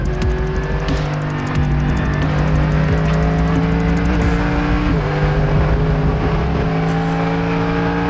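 A Mercedes AMG GT3 race car engine screams at high revs from on board at Monza, shifting gears with brief dips while the loud, continuous roar carries throughout.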